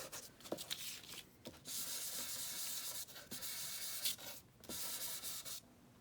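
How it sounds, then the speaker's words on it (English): Old journal page edges being distressed by rubbing, heard as repeated dry scratchy scuffing strokes in bursts with short pauses between them, close and fairly quiet with no talking. "do some just a little bit of distressing on these edges."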